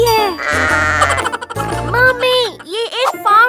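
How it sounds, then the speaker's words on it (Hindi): Goat on a farm bleating several times in wavering, high cries, mixed with a child's excited chatter and other voices close by. "नहीं, ये एक बकरी है।"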